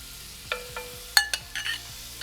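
Shrimp hitting a hot skillet in a home kitchen, giving a low steady sizzle broken by several sharp clinks and scrapes of a utensil stirring against the pan, with no voices.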